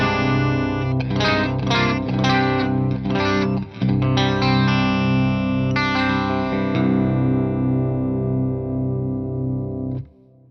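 Electric guitar played through a Seymour Duncan Jupiter Rails bridge pickup, a loud strummed and picked phrase with chorus-like effects and light distortion, chords ringing out and decaying to silence at the end, with no talk.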